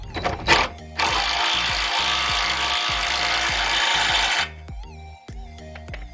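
A power drill bores through a wheel stud on a 2017 Subaru Forester XT fitted with extended ARP studs, giving a loud, steady, close-up grinding whine for several seconds with a motor hum underneath before it cuts off and the drill winds down.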